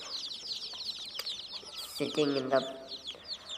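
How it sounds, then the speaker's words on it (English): Newly born chicks peep and chirp continuously on a farm, close and busy, with a short stretch of a voice speaking partway through. "in the farm and talking together."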